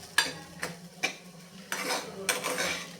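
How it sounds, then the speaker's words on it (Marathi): Sugar being stirred into vatli dal in a pan, a few sharp metallic scrapes and clinks of a spoon against the pan at an uneven pace, close and quiet with no talking. "साखर घालायची आहे साखर जरूर घाला चव खूप छान लागते मिसळून घेऊयात"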